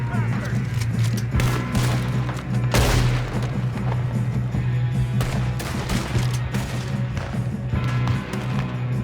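Gunfire in a Red Dead Redemption 2 shootout, with repeated sharp shots and one big booming blast among them, all over a constant low rumble of game ambience and music.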